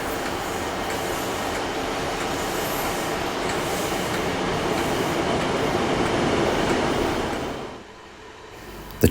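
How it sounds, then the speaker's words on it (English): A southbound diesel multiple unit rolls steadily past a train waiting at a station platform on the Falmouth–Truro branch line, a loud continuous rumble of wheels and engine that drops away abruptly near the end. "The train then remains at the platform until the southbound DMU passes the train on its left-hand side."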